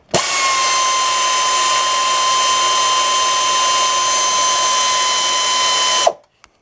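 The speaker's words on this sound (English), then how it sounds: "I think we'll grab the air ratchet, make this a little easier." Air ratchet loosening water pump bolts on a 2007-2014 Chevrolet Silverado, a loud, steady pneumatic whirring buzz lasting about six seconds and stopping abruptly.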